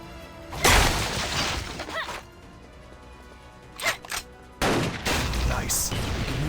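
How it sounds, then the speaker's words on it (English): Rifle shot at a brazier in Blade and Soul: a loud gunshot bursts out with a crashing shatter and scattered debris, followed by quieter rustles, a couple of sharp knocks and a final burst of noise. "Take a rifle from this box and shoot the brazier."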